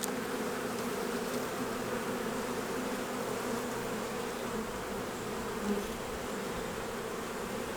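Honey bees humming steadily from an open hive frame during an inspection, a dense, even buzz close by with no talk.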